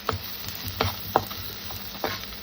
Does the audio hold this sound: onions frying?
yes